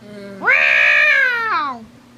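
A person imitates a cat with one long, loud, close meow that rises, holds and then falls away, standing alone against a quiet background.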